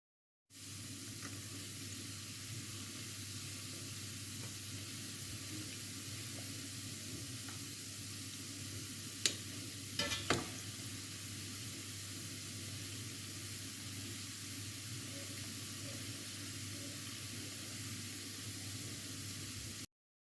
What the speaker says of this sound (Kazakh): Содан кейін осылай тулумбаларымызды қызартып қуырып аламыз.